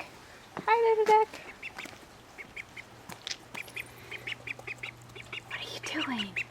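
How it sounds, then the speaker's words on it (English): A three-week-old Cayuga duckling gives a few soft, high peeps and quacks outdoors, while people speak gently nearby. "Hi, little duck."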